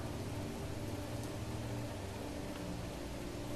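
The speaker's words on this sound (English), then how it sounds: "Is it raining? Yes, it is." Steady rain falls in the video game Planet Crafter, a dense even hiss of drops with a soft low rumble underneath, constant and moderately faint for the whole stretch.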